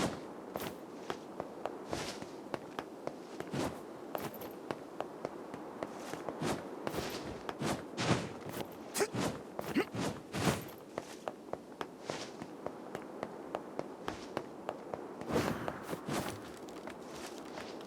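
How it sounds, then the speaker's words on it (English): Echoing footsteps in the Nier Replicant video game, a steady run of sharp, reverberant steps across an empty area with a soft breeze beneath, continuing throughout without speech. "There's this sort of slight hint to of echo to the footsteps."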